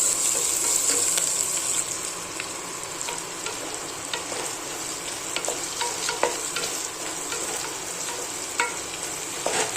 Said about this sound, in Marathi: आता हे बघा चांगलं लसणाची फोडणी ना एकदम चांगली बसली पाहिजे.